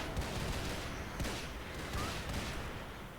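Dense, continuous gunfire and explosions from turrets and units attacking an infested Nidus in a StarCraft 2 arcade Exodus match on hard difficulty, busy and loud throughout with scattered sharper shots and no talk.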